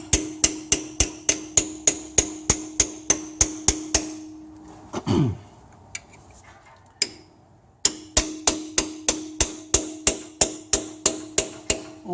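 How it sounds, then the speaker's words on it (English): A small chisel is hammered against a crankshaft rear main seal, giving a steady run of sharp metallic taps about three per second. A brief scraping pause follows before the rapid strikes resume. "this time I'm just going to try and do it just with a little chisel there"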